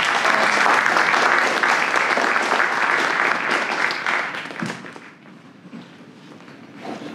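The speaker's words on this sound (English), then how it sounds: "Huge round of applause for Yash." Audience applause at a live community event, dense loud clapping from a crowd that holds steady for several seconds, then thins out and fades to scattered claps.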